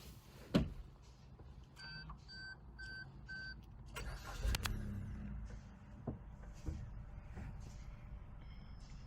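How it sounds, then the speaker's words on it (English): A GLX-model car starting up: a short crank and catch, then a steady idle with faint electronic chimes and a brief clunk, heard fairly close with no talk. "Let me show you what this car does when you start her up."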